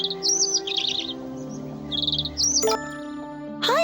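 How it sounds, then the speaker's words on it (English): Cheerful cartoon birdsong: bright, close chirps come in quick clusters of rising and falling trills, with a brief louder whistle toward the end. "Suddenly, he heard some cheerful chirping."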